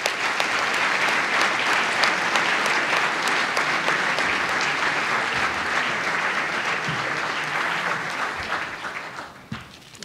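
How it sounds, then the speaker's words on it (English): A seated audience at an army leadership event claps to welcome a speaker to the stage, a sustained, even round of applause that holds for about nine seconds before tapering off. "please join me and in clapping and welcoming him on"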